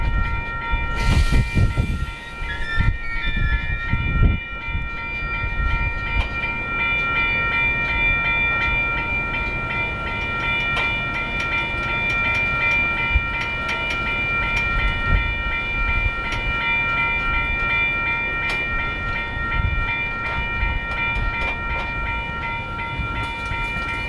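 A stalled, heavily loaded coal train on a hill rumbles steadily with a low, grinding drone and metallic ringing tones, a few sharp clanks early on, then a continuous engine hum.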